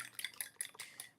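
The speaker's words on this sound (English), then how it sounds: "so I'm just beating my eggs right now" Eggs beaten in a bowl with a utensil while cooking, quick rhythmic clinking taps against the bowl repeating about five times a second, quiet and close, with no voices.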